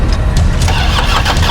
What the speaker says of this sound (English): It was an emergency, but the car wouldn't start. Fortunately, it finally did start.